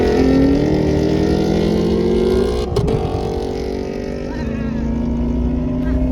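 A Ford Mustang Mach 1 drag races a Camaro ZL1, with loud engine roar building through the run, a short break near the middle like a gear change, then steady high-revving drone continuing to the end.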